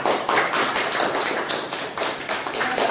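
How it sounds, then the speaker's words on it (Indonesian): Applause for a student group in a classroom, a burst of dense, close clapping that pulses in quick waves over a few seconds. "Untuk kelompok 2 kita beri aplaus."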